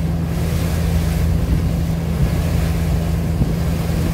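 A passenger launch on a river in Bangladesh under way and overtaking another launch, with a continuous low engine drone, rushing water and wind noise, loud and steady throughout with no talk.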